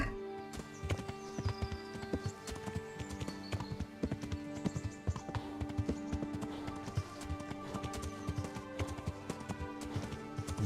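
Horse hooves clip-clop steadily in the Kingdom Come Deliverance video game, a continuous brisk rhythm of close, sharp hoof strikes over layered background game sound.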